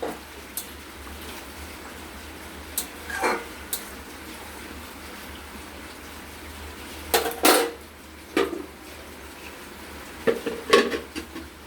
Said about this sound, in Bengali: ঢাকনা দিয়ে ঢেকে দিলাম, সামান্য একটু আঁচ কমিয়ে ঢাকনা দিয়ে ঢেকে দিলাম।